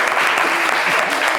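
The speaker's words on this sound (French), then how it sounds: "on va l'applaudir pour cela" Loud, dense audience applause for the artist Abou Nidal during a televised discussion, a steady wash of many hands clapping at once, close and continuous with a faint murmur of voices underneath.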